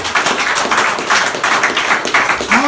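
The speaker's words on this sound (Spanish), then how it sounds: "Ese aplauso que sea para el Señor" A church congregation applauds together in sustained, pulsing clapping during a sermon, fairly loud and close, with no one speaking over it.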